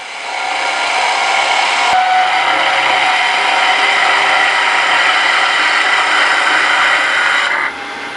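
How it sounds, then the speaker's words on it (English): Wood lathe turning a magic wand, the cutting tool chattering with vibration against the spinning wood; a steady, loud scraping whir runs continuously, briefly interrupted near the start and easing off at the very end. "As you can hear, I'm getting some vibration when cutting in the middle here"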